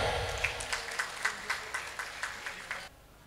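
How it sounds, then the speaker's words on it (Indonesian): Applause from an audience at the inauguration of a political party's provincial board, a dense burst of clapping with rhythmic peaks, moderately near, stopping abruptly near the end. "Beri tepuk tangan yang meriah."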